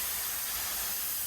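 A steady, close hiss of a paint spray gun spraying, continuous and fairly loud with no pauses.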